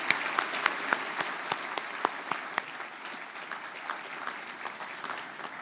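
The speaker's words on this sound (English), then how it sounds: "So let's give them all a round of applause and say thank you very much." Steady applause from a convocation audience at a university ceremony, a dense wash of many hands clapping with scattered sharper claps standing out, moderately distant and even throughout.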